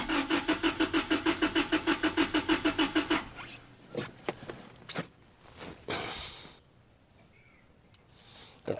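1996 Toyota Tacoma with a crank-no-start fault, engine cranking in a fast, even rhythmic whir for about three seconds without catching, followed by clicks, thumps and quieter handling noises.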